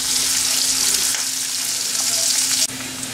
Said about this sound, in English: Now I'm going to add this onion into the oil. Saute it nicely until they get a slightly brown color.